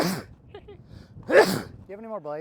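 One loud sneeze bursts out near the microphone in a trailer repair workshop, with people talking just before it.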